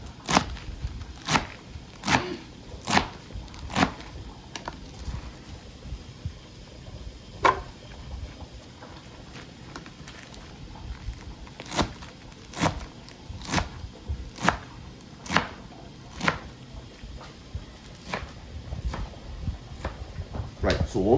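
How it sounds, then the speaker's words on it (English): Knife chopping on a board, sharp regular strikes in bursts with pauses, close and loud, while a person talks intermittently. "let me go back here to chopping up this stuff"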